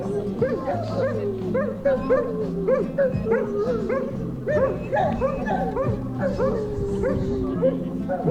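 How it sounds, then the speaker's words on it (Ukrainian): Dogs yip, whine and howl along with a loud song playing nearby at a pump room in Truskavets, Ukraine, their wavering cries rising and falling over the music. "а собаки підспівують"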